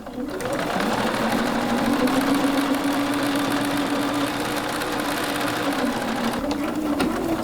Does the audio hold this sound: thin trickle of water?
no